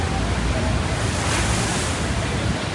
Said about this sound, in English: Look at these falls. Look at the water.